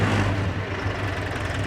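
A 50 HP Mahindra Arjun 4WD tractor engine runs at 2000 rpm, giving a close, steady diesel drone with a constant low throb.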